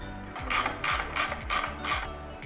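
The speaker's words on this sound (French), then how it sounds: "là je finalise mon serrage de tout à l'heure" A ratchet wrench tightens wheel nuts near a mudguard, giving five quick bursts of clicking spaced about half a second apart, close and fairly loud with no talking.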